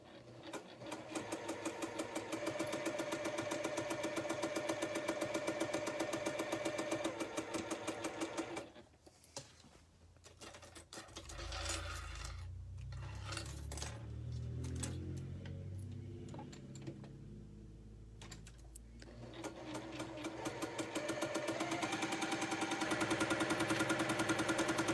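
Juki sewing machine stitching a pottery star quilt, a steady loud mechanical whir running continuously, pausing briefly midway amid handling noises and low thumps before the rapid stitching resumes.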